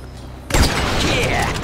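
A sudden loud burst of gunfire in Grand Theft Auto V, opening with a sharp blast and followed by sustained noisy action, with game voices under it.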